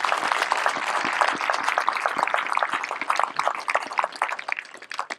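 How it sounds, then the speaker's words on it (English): A crowd at a military leadership course graduation ceremony claps for the instructors, a dense burst of applause that thins out and fades toward the end. "Please join me in a round of applause for these outstanding instructors."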